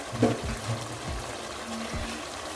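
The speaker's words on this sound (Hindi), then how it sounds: "अब हम इसके अंदर पानी ऐड करेंगे। पानी वही मैं ऐड करूँगी जो मैंने इसके अंदर से निकाला था।" Water is poured into a pan of chana masala, giving a close, splashy, gurgling trickle with a few soft thuds; no one talks over it.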